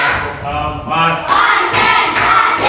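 Primary-school class clapping together in time to a counted rhythm during a lesson, a few sharp group claps landing in quick succession, fairly close and clear.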